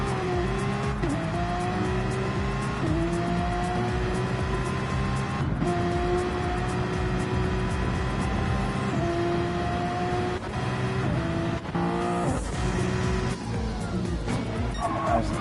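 Race cars howl around the Red Bull Ring in Gran Turismo 7, with engine notes repeatedly rising and dropping through gear shifts and occasional tire squeal. The sound is loud and continuous, with no talking heard.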